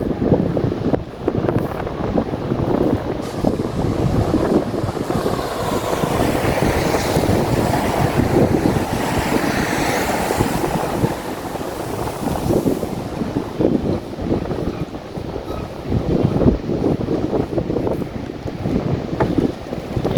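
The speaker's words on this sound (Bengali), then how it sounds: "নৌকা যাচ্ছে" A boat moves along water past hillside houses, its steady rumbling wash and lapping waves mixed with strong wind buffeting the microphone, loud and continuous throughout.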